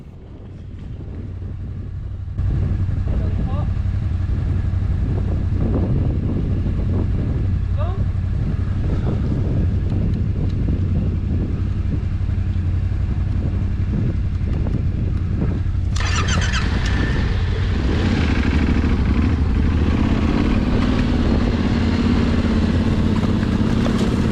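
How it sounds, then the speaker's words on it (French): A motorcycle is ridden along a narrow, slightly slippery path during a rally road-book navigation stage. Its engine gives a steady, close drone under wind buffeting on the microphone, then pitches up to a harder, higher run partway through. "Juste la conduite de la moto, c'était un peu glissant."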